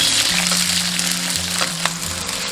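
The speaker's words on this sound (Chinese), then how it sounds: "另起一锅倒入食用油，油热过后下入大葱、姜片炒香。" Scallions and ginger slices fry in hot cooking oil in a wok as the base for braised pork trotters, giving a steady, loud, close sizzle throughout with faint tonal music underneath.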